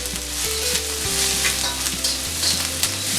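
Chopped garlic, ginger and green chilli sizzle steadily in a hot pan on full flame. The frying is loud and continuous, with a few stirring scrapes and no voices.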